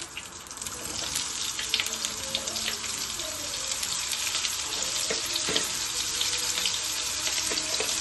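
Cauliflower hits hot oil in a wok with a bright, continuous frying hiss that builds slightly, punctuated by small crackles and spatula scrapes, close and steady with no voices.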